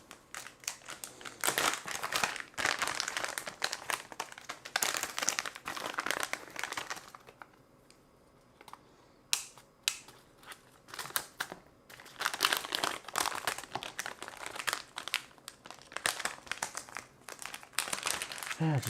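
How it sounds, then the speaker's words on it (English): Plastic component packaging crinkles and crackles close up while parts are handled during assembly of an ESP32 rack controller board, with dense irregular bursts, a brief quieter gap in the middle, and no talking. "Yeah, just lots of rustling."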